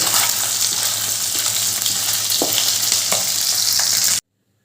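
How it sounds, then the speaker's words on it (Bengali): Tangra fish frying in hot oil in a kadai, a loud continuous crackling sizzle with occasional stirring scrapes, close up and uninterrupted, cutting off abruptly. "এবার আমি বাকি মাছগুলো দিয়ে দিয়েছি কড়াই এগুলো ওরকমভাবে ভেজে নেব"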